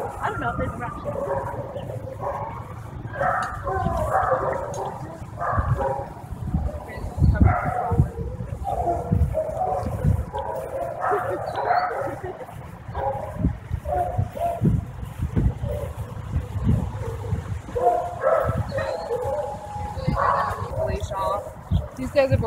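Several dogs at an animal shelter meet and greet bark, yip and whimper in short bursts close by, with people talking over and between the dog sounds throughout.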